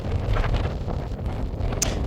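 Strong wind buffets the microphone on a hiking trail in Sicily, a loud, continuous low roar with gusty swells and no pauses.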